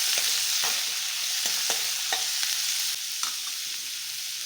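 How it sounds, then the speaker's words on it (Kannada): Dry red chillies frying in a pan, a continuous hot sizzle broken by repeated crisp scraping stirs of a spoon, close and alone without speech. "ಫ್ರೈ ಮಾಡ್ಕೊಳ್ಳೋಣ."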